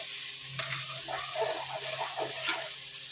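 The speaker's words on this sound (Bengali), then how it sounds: "এবার নেড়ে চেড়ে দিচ্ছি।" Chilli chicken frying and being stirred in a pan, a steady close sizzle with scraping spoon strokes and a few sharper clinks, no voices.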